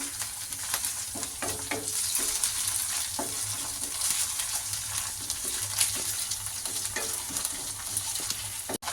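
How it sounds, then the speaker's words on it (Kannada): Ginger garlic paste fries in a pan while a hotel-style veg fried rice is cooked, a close, continuous sizzle with frequent stirring scrapes and clinks throughout. "ಈಗ ಇದನ್ನು ಹಸಿ ವಾಸನೆ ಹೋಗೋ ಥರ ಫ್ರೈ ಮಾಡ್ಕೊಡೋಣ"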